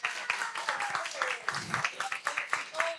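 Studio audience applauding on a live cooking show set in a restaurant, a steady patter of many hands clapping at moderate level for about three seconds, with voices mixed in underneath.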